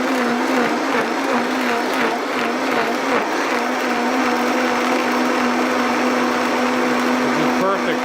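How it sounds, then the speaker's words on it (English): A Vitamix blender whirs steadily at high speed as it purées a raw vegan mushroom mixture, a loud continuous motor drone with a sustained pitch that holds throughout, no talk over it. "When we operate our Vitamixer, we always want to start it on slow."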